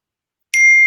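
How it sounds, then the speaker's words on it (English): A single bright bell ding rings out suddenly after silence, a clear metallic tone with a sustained ring, close and fairly loud, alone with no talk. "I heard that bell again."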